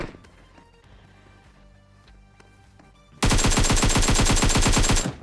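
Rapid, sustained burst of Uzi submachine gun fire in the mobile battle-royale game PUBG Mobile, loud and close, lasting about two seconds after a quieter stretch of game ambience.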